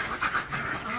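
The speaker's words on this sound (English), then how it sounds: "you can see how nervous the ducks are" Several nervous ducks shut inside a winter pen giving soft, muffled quacks and chatter at close range, brief and fairly faint.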